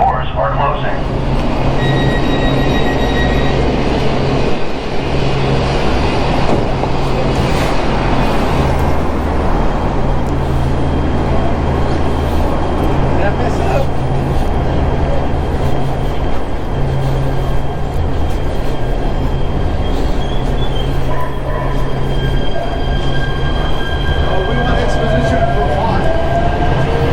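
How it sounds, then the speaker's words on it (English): LA Metro train running, a steady loud rumble of wheels and motors throughout with rattling and faint tonal whines, heard from inside the car with no clear speech. "that was my short little travel on the LA Metro"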